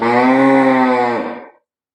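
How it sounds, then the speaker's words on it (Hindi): A cow in a cowshed lets out one loud, close, drawn-out moo lasting over a second, tapering off into silence. "इस गौशाला में लगभग 40 गाय इस समय"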